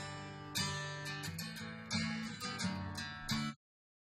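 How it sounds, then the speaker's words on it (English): Two identical copies of a musical recording layered with the lower copy's polarity flipped, giving a thin, hollow, phasey sound; the music plays alone for about three and a half seconds with rhythmic accents, then stops into silence. "That's that out of phase sound that I'm talking about."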